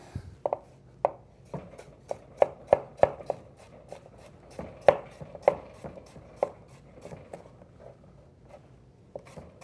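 A knife slicing a cucumber on a cutting board, a series of crisp, irregular taps and cuts close by, some quicker runs between pauses, against a quiet background.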